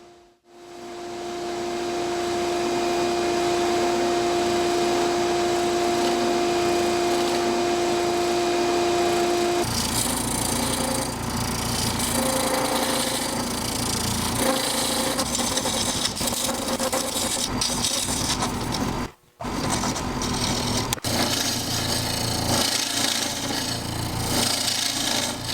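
Round carbide scraper turning epoxy resin on a lathe, a steady loud scraping and whirring rasp that runs almost the whole time, with a brief break near the end.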